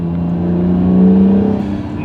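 Turbocharged Acura NSX hybrid sports car engine revving, a loud, close, steady droning note that swells in the middle and then wavers as it eases off.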